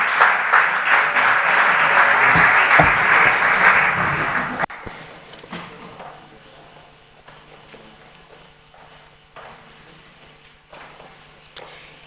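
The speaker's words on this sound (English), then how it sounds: "so please, a round of applause." Conference audience applauding loudly for about four and a half seconds before the clapping cuts off abruptly, leaving faint room noise, scattered handling sounds and soft footsteps.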